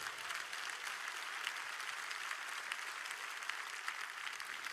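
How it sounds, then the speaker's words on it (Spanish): A large church congregation applauds at a worship service, with steady, dense clapping heard faintly and at a distance, continuous throughout without talk. "Le doy un aplauso a Jesucristo"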